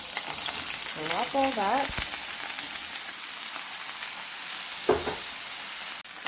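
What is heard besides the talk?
onion mixture frying in oil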